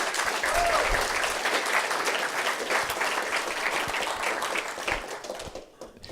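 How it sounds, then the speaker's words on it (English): Audience applause at a SkyDogCon conference keynote, a dense, steady roar of many people clapping that fades away near the end. "Let's give a round of applause for everybody that makes SkyDogCon possible"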